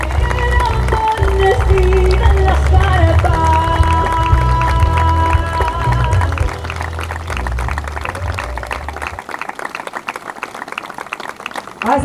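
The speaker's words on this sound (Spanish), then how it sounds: "Fuerte el aplauso para estos amigos lapaseños." Crowd applause at the Fogón Entrerriano folk festival in Cerrito rises as instrumental music fades out, a dense, steady clatter of clapping that carries on alone for several seconds.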